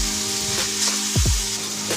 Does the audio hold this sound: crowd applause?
no